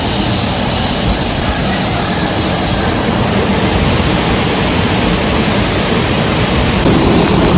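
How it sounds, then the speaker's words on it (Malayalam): A stream rushes under a footbridge at the Tegallalang rice terraces in Ubud, Bali, a loud, dense, unbroken wash of flowing water that fills the whole span close by, with no voices. "അരുവി ഒഴുകുന്നുണ്ട്"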